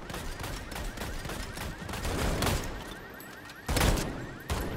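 Rapid bursts of gunfire in a vampire-themed Fortnite match, dense overlapping shots with louder cracks near the end, loud and close.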